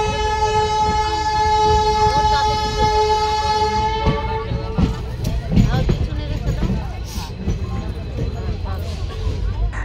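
Kanchanjunga Express pulling out of New Jalpaiguri station, heard from inside a crowded general coach: a loud sustained horn for about four seconds, then rolling wheel clatter and carriage rumble under talk from passengers.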